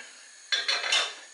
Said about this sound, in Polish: Już tu się dokonuje smażenie.